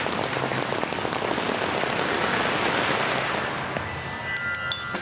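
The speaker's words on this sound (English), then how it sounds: "You know those firecrackers, they sometimes get in the way of things" Dense crackling firecrackers going off at a Chinese New Year parade, a continuous loud rattling barrage of rapid pops that thins slightly near the end, with a few brighter sharp bangs.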